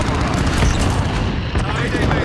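Bomb blast in a military combat scene during an airstrike, a loud sustained rumbling roar of explosion and debris that holds at full power for the whole stretch.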